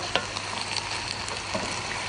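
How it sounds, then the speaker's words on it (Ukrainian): Offal filling sizzling and frying in a pan, a steady close crackle with a few sharper pops and stirring scrapes, no voices. "І це все пересмажуємо."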